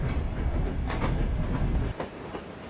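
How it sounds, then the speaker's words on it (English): A train rolls along its rails in the video game The Operative: No One Lives Forever, a loud, steady rumble with clattering wheels that eases slightly near the end, with no voices over it. "Just sit on the train."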